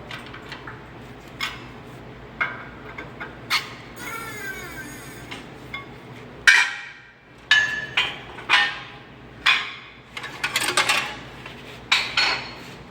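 Sheet metal being forced through a dimple die in a workshop press gives a run of sharp metallic clanks and ringing knocks at irregular intervals, with brief creaks and scrapes between them and no voices.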